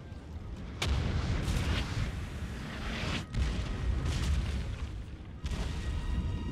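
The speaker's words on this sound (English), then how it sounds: "all cannons focus their boom boom." Cannon artillery firing in the Napoleon Total War video game, a battle in the Denmark campaign: several heavy booms land at irregular intervals over a constant rumble of battlefield noise.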